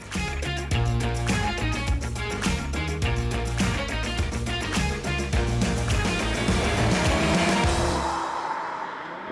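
A five-cylinder Audi Quattro engine, the famous turbo rally model, runs loud and steady for about nine seconds, a dense continuous roar that eases off slightly near the end.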